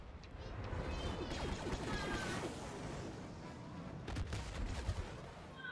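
Dense, rapid gunfire crackles continuously in multiplayer Star Wars Battlefront, a distant-sounding fusillade of overlapping shots and impacts with no talk over it.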